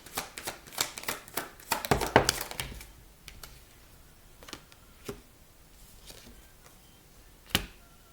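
Tarot cards being shuffled: a quick run of crisp riffling clicks and snaps at the start, then a few sparse, quieter card taps, all close and fairly soft with no talking.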